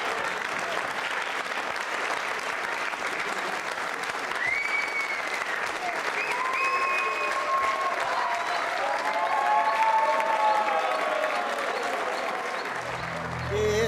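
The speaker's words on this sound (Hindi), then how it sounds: "जोरदार तालियां, तालियां जोरों से बजाइए।" Steady audience applause at a Jain Social Group quiz show with dance performances, sustained and moderately distant, with faint music or voices faintly audible through the clapping.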